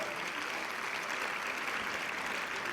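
A hall full of people claps for the JEE Main 2025 result team at a celebration. The applause is an even, dense and fairly quiet patter that holds steady all the way through.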